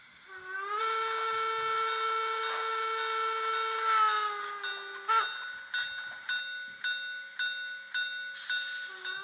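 A sustained electronic steam whistle tone from a digital model steam locomotive holds for several seconds, then its bell rings in a steady series of evenly spaced clangs, close and clear.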